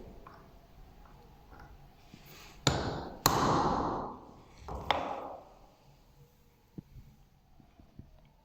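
A few sharp metallic taps ring out as a centre punch marks metal for drilling, two or three louder strikes with short ringing decays, then lighter ticks, close up.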